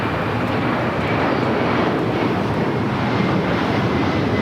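An airliner on approach to runway 25 left at Los Angeles International Airport, a steady broadband jet engine roar that holds loud and even for the whole stretch, with wind rumble underneath.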